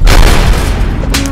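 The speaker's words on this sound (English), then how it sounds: "It's not like the nut shop's gonna explode." A loud, sustained blast from the nut shop exploding in the animated film The Nut Job 2, a dense booming rumble filling the whole moment with a brief dip and second burst near the end.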